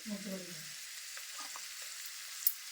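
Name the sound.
spinach and peanuts frying in a pan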